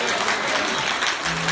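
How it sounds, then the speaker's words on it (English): A church congregation claps steadily in a dense, sustained round of applause honoring a preacher, loud and continuous throughout with no speech over it. "Come on, give him another hand clap."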